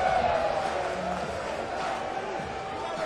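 A crowd fills the stadium at an NCAA baseball Super Regional game between South Carolina and Arkansas in Fayetteville, a steady, fairly loud roar that holds for about three seconds without a sharp peak.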